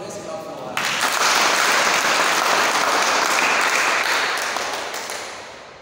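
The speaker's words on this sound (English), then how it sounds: "Come on, let's clap for us." Audience applause in a church or worship setting fills the space, starting abruptly after a moment of faint sound and holding loud and dense for several seconds before slowly tapering off.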